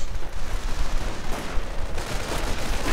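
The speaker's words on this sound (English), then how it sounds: "There we go, mortar rounds." Mortar rounds firing in the World War II strategy game Company of Heroes, heard as dense, continuous bursts of gunfire and explosions with a noisy, rumbling battle texture.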